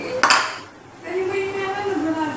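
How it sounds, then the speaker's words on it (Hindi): Dishes being washed with a sponge at home, with a sharp clatter of pots and cutlery, a brief pause, then a steady run of scrubbing and handling noise, close and moderately loud. "अभी बर्तन धोते ही अभी आके बर्तन जल्दी से शुरू हो जा स्पंज"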